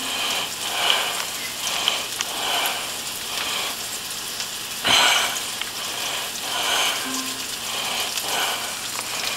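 Burgers sizzle in a frying pan, a steady broadband crackle and hiss with loudness swelling and easing in slow pulses and one sharper pop midway, no voices over it.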